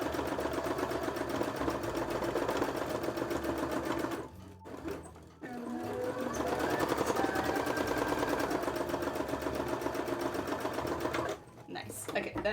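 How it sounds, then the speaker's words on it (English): An embroidery machine stitching an anatomical breast design runs at a steady rapid clatter for most of the stretch, pausing briefly twice, with the needle rhythm close and continuous. "Okay, we'll sew away a little bit first."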